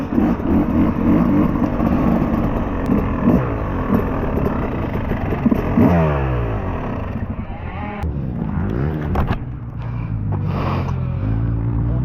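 A 2026 Yamaha YZ250 two-stroke dirt bike ridden on a motocross track at East Bend Motorsports, its engine droning loudly and steadily, then rising and falling in pitch as the rider revs and shifts near the end.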